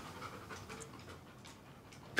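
A dog pants softly in a quiet room, with quick, rhythmic breathy puffs that continue steadily and stay close and low in volume.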